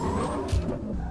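A white vehicle, the Nomad, driving in the video game Mass Effect Andromeda, its engine rumbling steadily with a brief tyre-skid swell in the middle, no voices over it.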